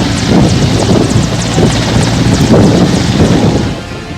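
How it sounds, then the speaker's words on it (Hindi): Air Force helicopter hovering a few metres above the ground during a flood rescue on the Betwa river, a loud, close, continuous rotor thump with rapid beating chop that eases slightly at the end. "वीडियो देखने से साफ लगता है कि कुछ ही मीटर की ऊंचाई पर एयरफोर्स का हेलीकॉप्टर है।"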